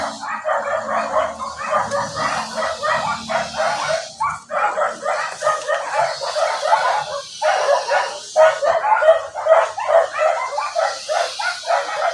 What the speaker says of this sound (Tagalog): tahol na tahol ang nasa sa kapitbahay